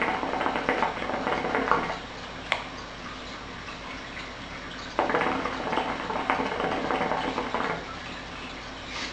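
Hookah water bubbling steadily as someone draws on Nirvana Zombie Hunter cherry-flavored shisha, a continuous gurgle that swells in two long pulls with a brief pause between, close and fairly loud with no talking.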